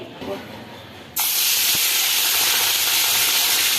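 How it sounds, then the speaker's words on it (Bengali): Khoira fish hit hot oil with a sudden loud, close hiss that holds as a steady, dense sizzle after a brief quieter moment. "মাছগুলো মাছ লাল লাল করে ভাজা হয়ে গেছে"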